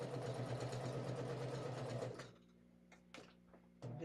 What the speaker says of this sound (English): And now we're sewing the block together.